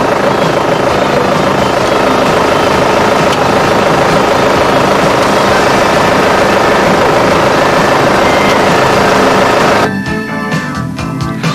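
A Toyota forklift engine runs during a clutch check, a loud, steady, close mechanical drone with a throbbing low rumble that continues throughout and eases slightly near the end.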